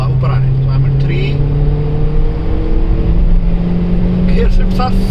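Volkswagen Polo GT TSI engine droning up through gears with quick shifts, a strong steady hum with rising tones under road and wind noise, brief clicks near the start and end.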